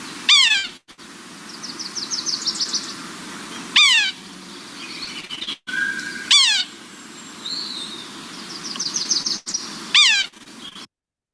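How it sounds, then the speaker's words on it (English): A small sapsucker woodpecker at a wildlife rehabilitation centre gives three loud, clear, descending mewing calls, well spaced apart, over a low steady background hum. "our little sapsucker makes totally different sounds"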